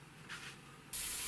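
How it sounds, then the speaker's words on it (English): Black primer hisses from a spray can onto an Airfix A4 Skyhawk model kit, a short puff followed by a steady, close spray burst. "spraying down the black primer"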